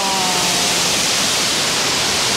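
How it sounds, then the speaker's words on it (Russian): Broad steady roar of the Velikan waterfall, the largest waterfall in Abkhazia, a continuous hiss of falling water heard close and fairly loud, with no voices over it. "Это водопад Великан. Самый большой водопад Абхазии."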